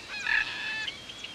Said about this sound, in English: Just ordinary cockatoos. What are they doing here?